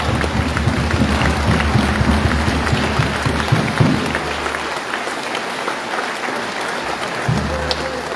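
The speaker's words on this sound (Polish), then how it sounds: "Witamy i gorącymi brawami bardzo serdecznie zapraszamy." A crowd applauds at the Aluron CMC Warta Zawiercie volleyball club presentation in Zawiercie. Dense, sustained clapping fills the hall, eases off past the midpoint, then swells briefly again.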